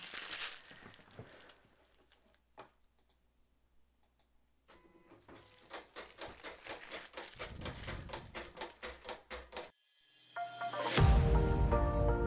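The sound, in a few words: Silhouette Cameo cutting machine cutting with auto blade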